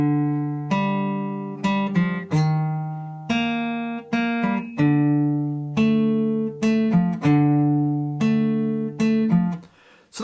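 A guitar plays the repeating opening line of a song as heard in The Last of Us, Ellie's cover: plucked single notes and chord tones ringing out in a steady, unhurried phrase, close and clear with no talking.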